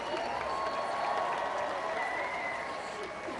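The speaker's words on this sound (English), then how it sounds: "Big round of applause for Central Florida Community Arts Choir" Large crowd applauding the Central Florida Community Arts Choir at an Orlando memorial gathering, a broad sustained roar of clapping with crowd murmur mixed in, steady and full from start to finish.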